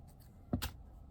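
Scissors snip crochet yarn while a large popcorn-stitch purse is finished: two quick, close cuts in quick succession, otherwise quiet.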